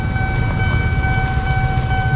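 A train running alongside a narrow, traffic-jammed road near the Matraman–Manggarai LRT construction works in Jakarta, with a steady, loud, close rumble and rolling clatter throughout and no voices.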